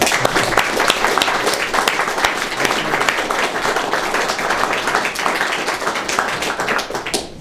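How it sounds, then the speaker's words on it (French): Audience applause after a president is introduced at a French political gathering, a dense steady roar of many hands clapping loudly and continuously throughout, tapering slightly at the very end. "Et je voudrais d'ailleurs qu'on l'applaudisse."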